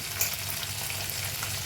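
A ginger and cumin spice paste with salt fries in oil, giving a steady close sizzle with soft stirring scrapes throughout, and no voices.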